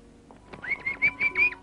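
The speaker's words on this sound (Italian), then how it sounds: "Ah, che de merlo." A blackbird sings nearby in an indoor Italian film scene, five clear whistled phrases in quick succession, each rising and falling, standing alone over a quiet room background.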